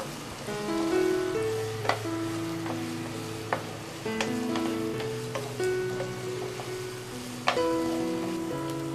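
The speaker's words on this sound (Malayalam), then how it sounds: "ഇനി നമുക്കിതിലേക്ക് നമ്മൾ അരിഞ്ഞു വെച്ചിരിക്കുന്ന സവാള ആഡ് ചെയ്ത് കൊടുക്കാം. ഇനി ഇത് നമുക്ക് നന്നായിട്ടൊന്ന് വഴറ്റിയെടുക്കാം." Chopped onions sauté in hot oil for a chicken samosa filling, giving a steady soft sizzle with occasional sharp spatula clicks against the pan, under quiet background music.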